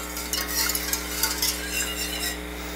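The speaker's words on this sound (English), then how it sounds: "we'll just continue to whisk this around" A whisk swirls through simmering ziti pasta sauce in a pan, making a soft repeated swishing and scraping over a steady background hum.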